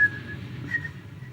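A thin, sustained whistle from a PlayStation video game, a low-pitched warning tone that later rises in pitch to signal a threat drawing closer, held steadily for about a second under a faint background hum.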